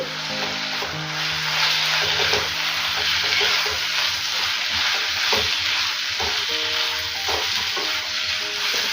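Ivy gourd with onion chili masala is stirred in a pan, a loud close sizzle broken by repeated scraping and clinking strokes at an uneven pace, with no talking.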